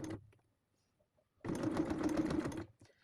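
A sewing machine stitching a wallet runs in one steady, loud burst of rapid mechanical whirring up close, after a brief faint voice and a near-silent pause.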